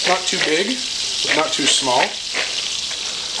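Onions sizzling in butter in a frying pan over lowered heat for bacon jam, a steady broadband hiss running throughout with someone talking over it.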